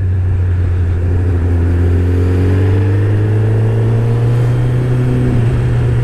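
A 2009 Suzuki Hayabusa motorcycle engine hums loud and steady close by, its pitch climbing gently as the revs build, with no voices.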